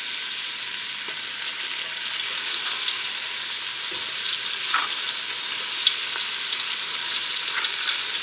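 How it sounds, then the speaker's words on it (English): Country ham sautéing in melted butter and bacon grease at the bottom of a pot, a steady close sizzle with occasional stirring scrapes and faint pops throughout. "let our country ham just saute just for a couple minutes"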